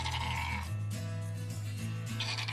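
A day-old sea lion pup calls with loud, wavering, bleating cries much like a baby goat, heard close up and continuous over background noise.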